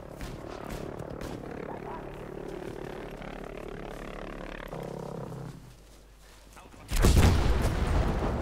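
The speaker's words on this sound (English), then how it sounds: "Anfrage für ein V1 Luftschlag auf diese Position" V1 rocket airstrike in Battlefield V, a low rumbling roar of battle that drops quiet before a sudden loud, booming explosion bursts in near the end and keeps roaring.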